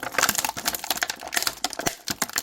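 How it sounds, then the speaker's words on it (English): Crisp, continuous crinkling of plastic packaging around a McFarlane toy figure as it comes out of its box, close and fairly loud, with dense rustles and sharp crackles throughout. "I got McFarlane crinkle on this one"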